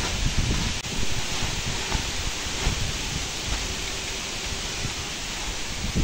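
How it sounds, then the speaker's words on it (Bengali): Strong wind during a rainstorm on a stormy day of gathering mangoes, a loud, steady roaring rush with gusting buffets against the microphone and rustling throughout, no voices. "প্রচুর বাতাস হচ্ছে"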